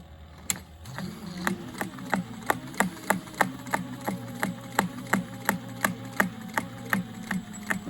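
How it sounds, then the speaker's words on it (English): A sewing machine stitches slowly through thick canvas: a motor whirs up, then sharp regular needle thumps repeat about twice a second, close and clear. "As you can hear that sewing machine,"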